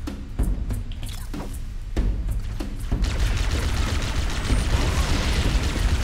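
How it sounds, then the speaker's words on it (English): Plasma cannons firing in Halo: Combat Evolved Anniversary, a dense sustained roaring burst that swells after a few seconds of sharp, spaced shots, loud and close with no talk. "Let's try these plasma cannons."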